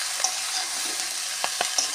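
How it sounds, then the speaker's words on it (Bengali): Malabar spinach and potato with turmeric and salt sizzle steadily in a pan after water goes in, a close, even hiss with a few soft stirring scrapes near the end and no talk. "একটু নেড়ে চেড়ে পরিমাণ মতন জল দিয়ে দেবো,"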